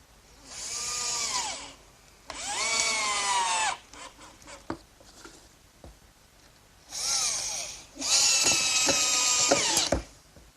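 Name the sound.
power drill driving screws into workbench top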